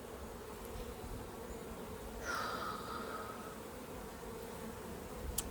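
Honey bees buzz around a hive frame, a steady close hum with a brief louder whine as one passes near, no voices.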